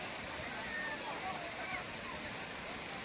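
Water pours over rock at Thripparappu waterfall, a soft, steady rushing wash heard from a moderate distance with no pauses.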